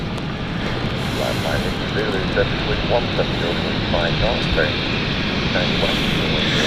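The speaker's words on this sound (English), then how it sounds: "So this is going to be our last flight of the day, folks. This is the Geneva flight." An airliner on the Geneva flight at London City Airport gives a broad, steady engine roar that holds loud throughout, while someone talks over it in the middle.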